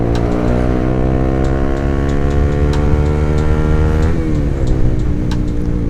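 A 2016 Honda CBR150R motorcycle engine revs hard in third gear, a steady loud howl with rising pitch that dips and shifts partway through, with faint ticking over the top and no talk.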